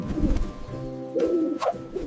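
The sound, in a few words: pigeon cooing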